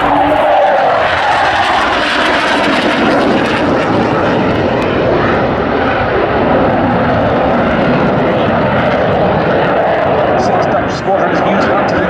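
A Hawker Hunter jet in Royal Netherlands Air Force colours at RAF Waddington, a loud continuous engine roar passing close, with a commentator speaking throughout.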